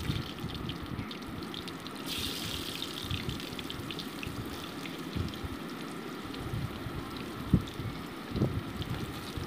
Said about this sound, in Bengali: দিয়ে ভালো মতো এটাকে 2 মিনিটস আমি ভালো করে ভেজে নিচ্ছি।